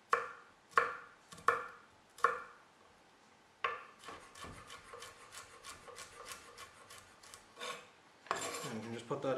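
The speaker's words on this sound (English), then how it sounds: "roughly chop through it like so" A knife chopping peeled garlic on a cutting board: a few spaced, sharp knocks, then a quicker run of close, crisp chops, ending in a brief scraping sound.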